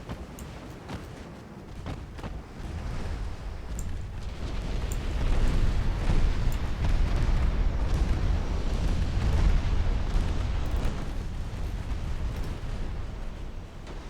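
A warship firing torpedoes and guns in the naval game Ultimate Admiral Dreadnoughts, a dense, continuous rumble of booming gunfire and distant explosions that swells louder midway and stays heavy.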